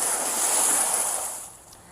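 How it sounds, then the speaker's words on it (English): Fast-moving floodwater rushing through downtown Moab, a loud broad roaring wash that holds steady and then fades slightly, with no voices. "wading through the fast-moving water, trying not to get swept away in the process"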